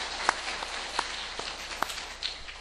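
A church congregation claps in thanks and encouragement during a Sunday service. The applause is soft and fairly distant, a scattered steady patter with a few sharper individual claps.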